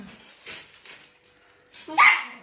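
A dog barks sharply at a new pygmy hedgehog indoors, two or three short yips and barks with a louder bark near the end, close to the listener.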